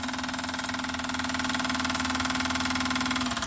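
A small Retrol SE-02 model steam engine runs steadily with a rhythmic chuffing pulse and a constant mechanical hum, close by and unchanging.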